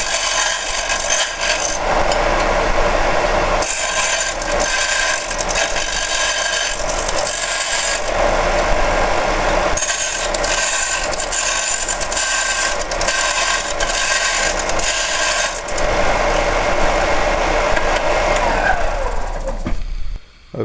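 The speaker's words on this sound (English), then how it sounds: "So I'm just going to quickly trim the brass on the edge," A sander grinds down the edges of brass cartridge cases being reformed from 30-06 to 300 Savage, a steady, loud abrasive rasp running almost without a break for about twenty seconds, with short pauses between pieces and no voices.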